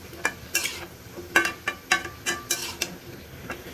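Flat beans are tossed and stirred in hot oil in a pan, with a soft sizzle under repeated sharp scraping and clinking of a utensil against the pan.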